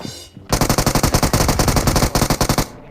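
Automatic gunfire in the mobile battle royale game PUBG Mobile, a loud rapid burst of evenly spaced shots lasting about two seconds after a short quieter lead-in, with no voices.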